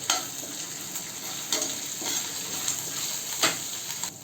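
Chili flakes, green chili and grated ginger hit hot oil with a soft, continuous sizzle, broken by several sharp stirring scrapes against the pan, nearby and without talk.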